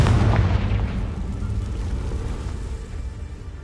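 Confringo spell explosion in the game Hogwarts Legacy, a loud deep boom at the start whose rumble slowly fades over a few seconds.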